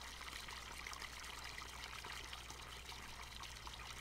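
A water fountain in Farming Simulator 17 trickles steadily and faintly, a continuous soft stream of pouring water with no break and no voices.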